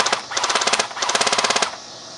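An IWI licensed Elite Tavor TAR-21 airsoft rifle firing full auto in two rapid, loud bursts of evenly spaced cracks with a short pause between, then quiet outdoor background.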